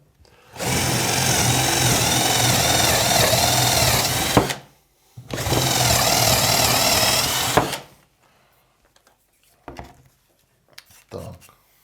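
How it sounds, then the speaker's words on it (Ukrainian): A MINUMX cordless drill driver bores a hole in two loud sustained bursts of whining motor and cutting, separated by a short pause, followed by a few faint knocks and handling sounds. "Давайте ще одну спробуємо дирочку зробити"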